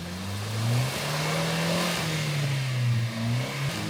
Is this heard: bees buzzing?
no